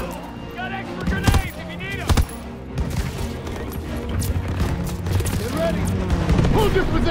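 Gunfire in Call of Duty: WWII, a wartime battle with rifles and machine guns, crackling in repeated bursts and sharp shots near and far, mixed with booms and shouting voices throughout.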